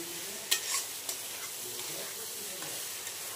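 Masala sautéed and stirred in a pan, a continuous close sizzle with a few scraping stir strokes and light knocks of the utensil, no voices.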